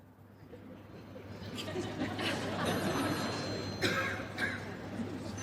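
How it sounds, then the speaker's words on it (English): Mobile phones ring in a theater auditorium during a conference keynote, thin electronic tones rising over a diffuse crowd murmur at a moderate distance, a couple of short ringing bursts overlapping the room noise. "maybe we'll hear a few mobiles ringing"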